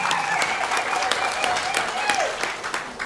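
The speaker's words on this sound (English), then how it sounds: "Don't you think you should clap for her?" A conference audience at the Bunyoro-Kitara International Convention in London claps together, the sharp overlapping claps close and lively while voices carry over the top.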